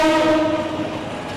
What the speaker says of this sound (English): Once the train passes,